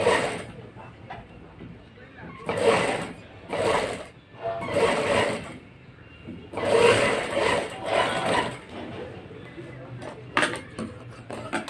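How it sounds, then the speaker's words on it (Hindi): A sewing machine stitches a blouse, its bursts of whirring running in several separate spurts with short pauses between, fairly close and moderately loud, with occasional clatter of handling. "इसीलिए मैं लेफ्ट हाथ से लगा रहा हूँ सिलाई"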